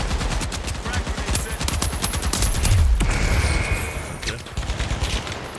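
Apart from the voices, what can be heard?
AK rifle gunfire in a video game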